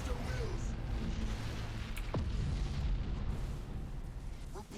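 A deep boom rolls out over rumbling space-battle noise in the Battlefleet Gothic Armada 2 game, a Chaos multiplayer match; it is loud and continuous, with sharper bursts and a falling whoosh midway.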